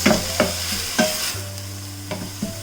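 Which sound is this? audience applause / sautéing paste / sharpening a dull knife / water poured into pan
sautéing paste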